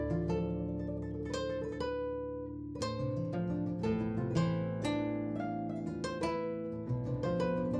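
Guitar sample played back after its tempo was changed and the audio resampled, a dense stream of plucked notes with strong attacks and sustained harmonic tones, steady and loud with no voices.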